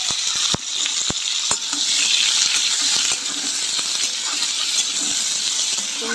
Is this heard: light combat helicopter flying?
no